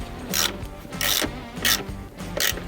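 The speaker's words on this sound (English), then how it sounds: "finish up by putting your bolt on the top of the linkage and then tighten that one up" A bolt being tightened on the top of a bike's rear suspension linkage: four evenly spaced bursts of rapid ratcheting clicks, close and fairly loud, over a steady low hum.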